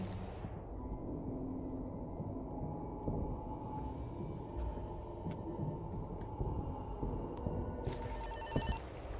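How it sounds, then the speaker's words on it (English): A telephone ringing in the horror game Fobia St. Dinfna Hotel, a repeated bell-like ring sounding at intervals over a dense, rumbling ambient background, with no talk. "Phone ringing."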